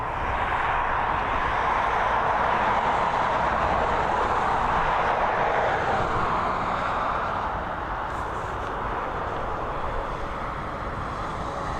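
An Aer Lingus Airbus A320 departs Dublin Airport for Munich with a loud, continuous jet roar that holds steady, then eases slightly in the closing seconds. No talking is heard over the engines.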